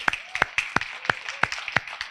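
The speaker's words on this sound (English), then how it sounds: "Give her a warm round of applause." Sparse, slow applause from a small audience at a press conference, a handful of distinct claps spaced about a third of a second apart, close and fairly quiet.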